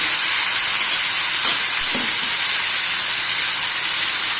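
Grated bottle gourd and green chillies frying in oil in a pan, a steady loud broadband sizzle and hiss throughout with a couple of faint soft clinks.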